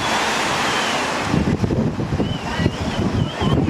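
Sea surf washing onto a Cretan shore at Agia Pelagia on a hot summer evening, a steady broadband wash with wind buffeting the microphone, louder churning bursts in the second half and faint distant voices.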